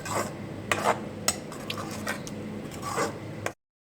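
Tomato puree cooking down with masala in a pan for aloo palak, a soft sizzling scrape of stirring with a few louder clinks of a spoon against the pan, close and steady, with no talk.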